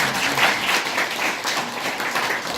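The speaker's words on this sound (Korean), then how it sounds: "박수 한번 쳐주십시오" Audience applause at a Korean academic presentation on Hunminjeongeum calligraphy, a dense, continuous roar of clapping hands, close and fairly loud, holding steady for under three seconds with no voices.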